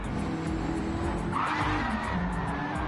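A race car spinning out in a racing video game gives a tire squeal and skid over a steady engine drone, moderately loud and sustained across the moment.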